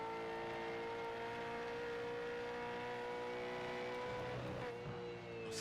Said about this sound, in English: The sound of these cars is just immense.